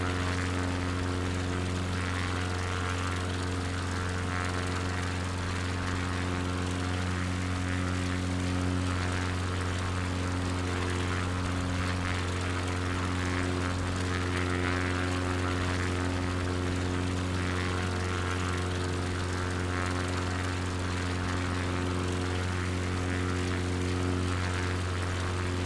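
Propeller plane engine in Microsoft Flight Simulator 2020 on a Finland bush trip, a steady, loud, droning hum with strong low harmonics holding unchanged for the whole stretch, with no talk.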